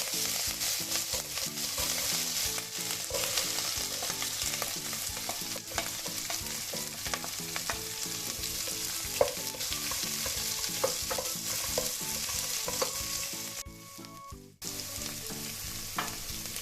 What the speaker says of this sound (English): We cook it for a few seconds and we add the onions.